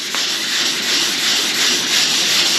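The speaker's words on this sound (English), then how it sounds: "the sound of my sanding is much better" Steady scratchy sanding as 400-grit sandpaper is rubbed over primer on the body of a 2002 Ford F350 truck, a continuous close hiss with slight swells in intensity and no talk.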